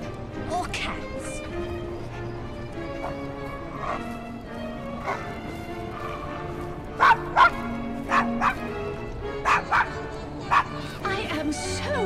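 A dog named Desmond barks repeatedly in Assassin's Creed Syndicate, several sharp, loud yaps in a cluster over steady background ambience and music.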